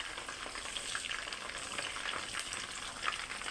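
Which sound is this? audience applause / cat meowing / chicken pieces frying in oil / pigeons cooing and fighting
chicken pieces frying in oil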